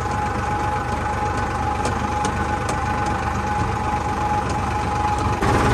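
Tractor engine running steadily nearby, a continuous low droning hum with a few faint clicks and no speech.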